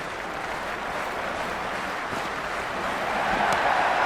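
A raucous cricket crowd in a video game cheers and claps in a continuous wash, building slightly louder toward the end, with no voices over it.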